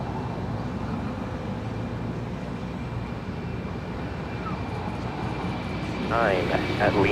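A departing airliner at Los Angeles International Airport gives a steady, broad jet roar that swells toward the end, with radio-style voices over it.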